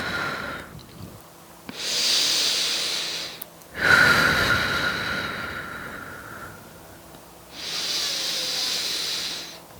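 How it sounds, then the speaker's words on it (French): Deep breathing during yoga practice: three long, close, audible breaths in and out, each a drawn-out airy hiss separated by short quiet pauses, with no talking. "De grandes respirations."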